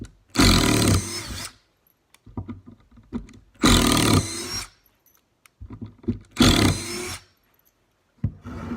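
Three bursts of a cordless drill driving screws into wood, each a loud, whining spin of about a second, separated by quiet gaps filled with handling clatter and knocks.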